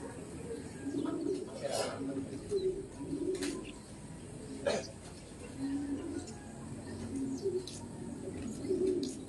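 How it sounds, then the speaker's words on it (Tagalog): Racing pigeons cooing in repeated soft low calls, with occasional wing flaps and chirps, at moderate distance under faint background noise. "lumipad pa yung pangalawang ibon natin mga idol"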